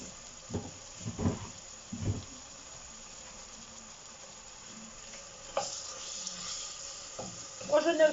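Ground meat for lasagne fries in a pan with a faint steady sizzle, broken by several soft scraping strokes from a wooden spoon stirring and breaking it up, close and fairly quiet.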